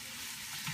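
Bacon frying in a pan on a home kitchen stove while Calabrese spaghetti carbonara is being made, giving a steady, fairly faint sizzle with a light stirring scrape near the end.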